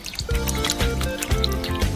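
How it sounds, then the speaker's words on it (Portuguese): Peeled potatoes are washed by hand in a sink filled with clean water, giving short splashes and drips against a louder musical background. "Cada batata foi lavada com água limpa."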